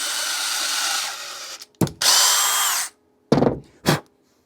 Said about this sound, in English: if you just take a normal tap and run that in